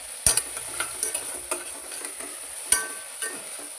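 Onions with a little salt frying in oil, stirred with a utensil: a steady sizzle runs under a handful of sharp scraping stirs, close and alone.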